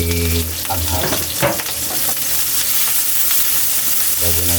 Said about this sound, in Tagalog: Likot lang natin yan kay kaya natin maluto kunti yung sibuyas natin